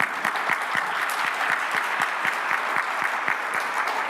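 An audience at a Fulbright Arctic research event applauds in a steady, sustained burst of many clapping hands that holds even loudness throughout.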